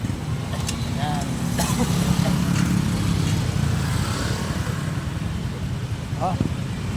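Busy road noise in Urdaneta after a two-motorcycle crash, with idling and passing motorcycle engines droning steadily nearby, a horn-like tone briefly rising, and a person talking over it.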